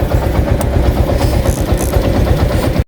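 A motorcycle engine runs steadily close by, a rumbling, pulsing idle that holds throughout and cuts off abruptly at the end, with no voices.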